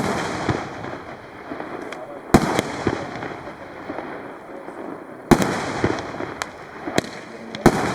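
SRpyro Plutonium fireworks go off in a series of sharp, booming bangs at irregular intervals over a crackling outdoor background, with faint voices in between.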